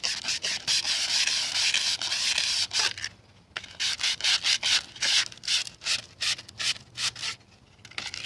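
Steady rasping sandpaper strokes scrub back and forth over a PVC plastic surface to rough it up, loud and close, continuous at first, then broken into shorter rhythmic passes with brief pauses.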